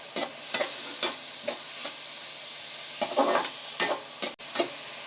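Onion and tomato frying in a pan for mushroom pepper masala, with spoon stirring making irregular scraping clatters over a soft sizzle, close up and without talk.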